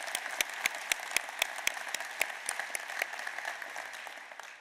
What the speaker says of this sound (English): Let's give that and you a round of applause.